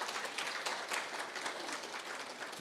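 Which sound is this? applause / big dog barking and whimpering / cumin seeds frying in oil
applause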